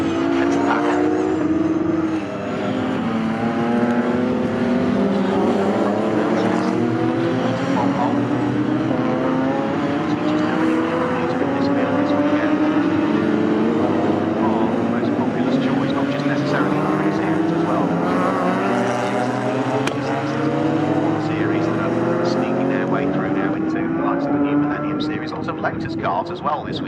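Several race cars at Snetterton circuit roar down the straight in a tight pack, engines loud and close with rising and falling pitch as they pass, under continuous commentary.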